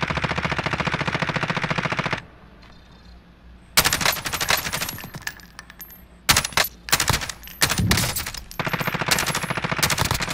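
Video game gunfire: loud, rapid machine-gun bursts fill the opening seconds, then after a short lull come more dense automatic volleys and scattered single shots, close and continuous to the end.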